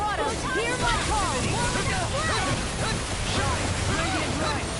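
A water spell cast in Tales of Arise battle, a surging, wave-like rush of water that swells and washes steadily throughout, overlaid with sharp chirping effects and bursts of voices.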